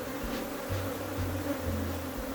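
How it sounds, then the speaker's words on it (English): Agitated Africanized honey bees buzz thickly around an open hive in Trinidad, a dense, continuous, close hum with a few individual bees droning louder as they pass. "the bees are beginning to get a little more agitated now"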